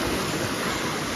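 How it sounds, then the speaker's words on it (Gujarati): Water flowing in the Bagad river makes a steady, broad rushing wash, close and even throughout with no voices. "હું તો વહેતું પાણી કહેવાય ને"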